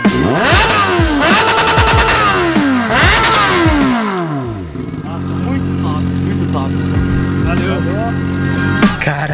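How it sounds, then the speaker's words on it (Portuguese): A loud motorcycle engine without a muffler revs hard twice in rising, falling sweeps, then settles into a rough, rattling idle. "essas motos ficam com barulho muito massa"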